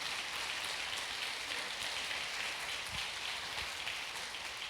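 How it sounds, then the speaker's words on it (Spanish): A church congregation applauds during a service, a dense, even wash of many hands clapping that holds steady throughout, fairly soft and distant, with no voices over it. "Dale un aplauso al Señor,"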